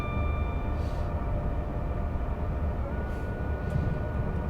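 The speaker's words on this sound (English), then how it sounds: "No, I heard a train." Train passing on the West Coast Main Line in the rail simulator Train Sim World 6, a loud continuous rumble with steady humming tones and faint high squeals, no voices.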